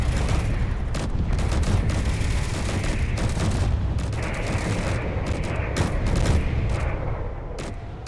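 Missiles and ship weapons fire in a Space Engineers space battle, a dense, continuous barrage of loud booms and rapid bursts layered over one another with no talking.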